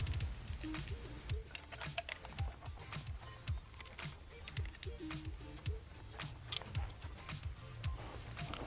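A nut is tightened onto an LED flush-mount turn signal on a Suzuki DRZ 400 motorcycle, giving a close, quiet run of repeated quick ratcheting clicks in an uneven rhythm.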